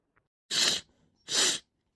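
Two loud, breathy sneezes from a cartoon character burst out close up, evenly spaced less than a second apart, with nothing else heard.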